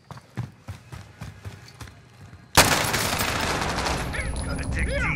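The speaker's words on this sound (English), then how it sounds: "Receiving hostile fire." Video game gunfire erupts suddenly halfway through, a dense loud fusillade of rapid shots and bursts that continues after a stretch of quieter rhythmic thumping footsteps.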